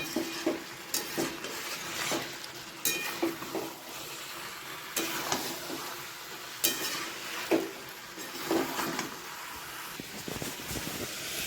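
Chicken sautéing in a pan for a Bengali chicken curry gives off a soft, steady sizzle, broken by repeated scraping and stirring strokes that land in irregular bursts, with no one talking.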